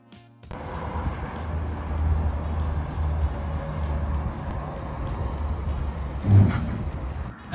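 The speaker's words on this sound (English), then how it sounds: "it will automatically apply the brakes to slow you down or stop you before that collision happens" A 2020 Hyundai Venue rolls toward a pedestrian standing ahead of it during a forward collision avoidance test, its engine a steady low hum close by, then a brief louder surge near the end as the brakes engage automatically.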